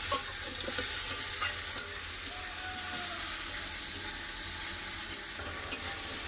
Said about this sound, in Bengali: আদা রসুন বাটা দিয়ে দিলাম সব ভালো করে একসাথে